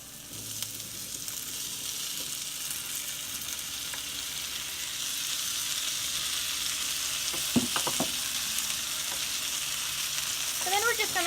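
Potatoes fry in a pan for a home-cooked breakfast bowl, giving a continuous close sizzle that swells slightly partway through, with occasional clinks and scrapes from stirring and no speech.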